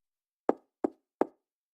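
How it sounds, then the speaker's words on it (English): Three soft, evenly spaced knocks sound on a law office door, each a short dull thud that fades quickly, with silence around them. "I'm standing outside the law office doors, knocking so softly that I'm surprised anyone hears me."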